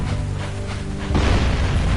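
Booming cannon fire from a bombarding cannon in the video game Jak and Daxter: The Precursor Legacy, a steady, loud, rumbling low barrage with a heavier burst midway, with no talking.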